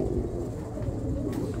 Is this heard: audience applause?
no